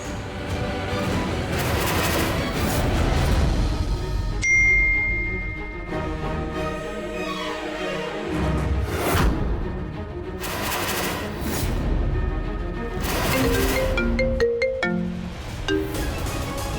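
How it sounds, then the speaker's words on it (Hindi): A loud electronic ringtone melody plays through, with shifting tones, bursts and swells, and no voices. "फोन की रिंग है।"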